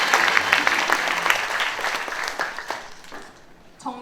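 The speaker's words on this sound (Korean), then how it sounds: "큰 박수 부탁드립니다." An audience at a peace rally applauds warmly, a dense wash of clapping that gradually thins and fades out over a few seconds, with a brief burst of clapping at the end.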